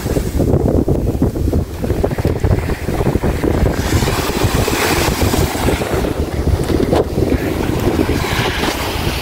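A boat engine chugs steadily under heavy wind noise and the wash of water, loud and continuous throughout.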